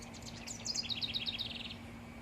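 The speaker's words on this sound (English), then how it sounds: "Already has a bird in it." A small bird at a new garden birdhouse gives a quick run of bright, high chirps, a rapid series of a dozen or so notes, moderately close and alone over faint background hum.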